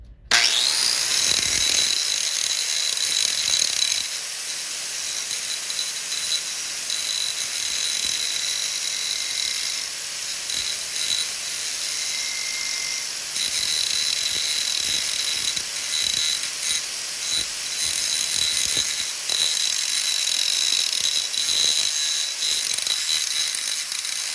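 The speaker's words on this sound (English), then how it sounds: "So let's go ahead and grind down some metal here." A 4 1/2 inch angle grinder grinds down a metal piece held in a vise, producing a steady high-pitched whine with rough grinding texture that runs loud and continuous throughout.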